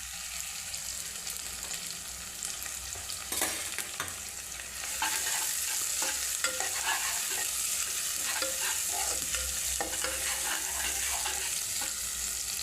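Sliced onions and chopped green chillies frying in oil for chicken curry, a steady close sizzle that grows louder partway through, with scraping stirs and no talk.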